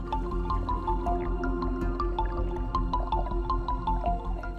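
Fisherman beating the sea water with a bamboo pole while net fishing, a steady run of splashing, dripping and sloshing water hits close by, with no talk.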